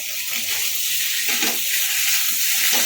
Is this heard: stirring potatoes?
yes